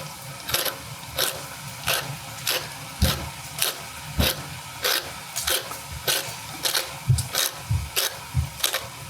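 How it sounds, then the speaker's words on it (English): A pepper grinder grates pepper coarsely for pasta carbonara, giving a steady run of crisp, crunchy clicks at an even rhythm, close and fairly loud with no talk. "And I like to grate the pepper fairly"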